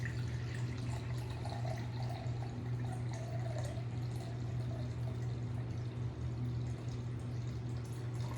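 Water, 500 grams of it, pours steadily into a bowl for a poolish preferment, a continuous splashing fill with a low steady hum underneath and no talking.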